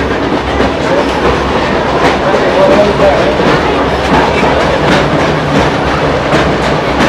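A steam-hauled heritage passenger carriage rolls along the rails near Sydney, giving a steady, loud clickety-clack of wheels over rail joints with constant rumbling vibration throughout.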